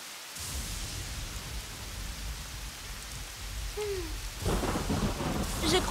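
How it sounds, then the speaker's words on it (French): In a children's cartoon, rain falls steadily through a thunderstorm and a deep roll of thunder swells, then rain and rumble grow louder toward the end. "Je crois qu'il va pleuvoir pendant encore un bon moment."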